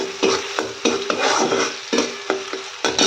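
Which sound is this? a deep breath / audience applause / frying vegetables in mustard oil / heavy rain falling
frying vegetables in mustard oil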